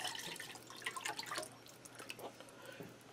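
A 14.5-ounce can of beef broth poured into a small saucepan for gravy gives quiet, close splashing and dripping that thins to scattered drips.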